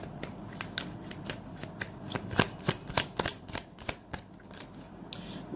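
Tarot cards are shuffled and a card pulled: a run of crisp, separate riffling snaps and flicks, close and fairly quiet, coming faster and louder through the middle, with no voice over them.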